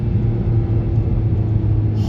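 A modded Mazdaspeed3 engine pulls hard on boost, a loud, steady, deep rumble with a dense low drone that holds throughout, heard from inside the car with no talk.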